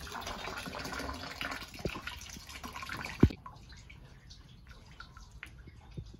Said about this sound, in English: We're going to empty the water.